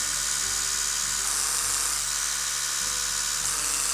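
An Oral-B Genius 9000 Rosegold Edition electric toothbrush buzzes steadily and close up, a continuous high hum held without a break.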